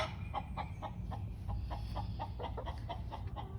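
Hens in a spacious backyard coop housing three birds, cackling after one has laid an egg; repeated clucks and calls sound at a moderate distance through steady low background noise.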